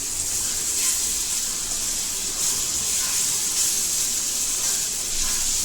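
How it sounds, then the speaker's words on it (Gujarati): Tomato puree made from five tomatoes sizzles with a steady, even hiss in a hot pan of sautéed ginger and garlic, forming the gravy for paneer tikka masala; the sizzle is continuous and close, with no talking. "હવે આપણે આમાં ટમેટો પ્યુરી નાખશું."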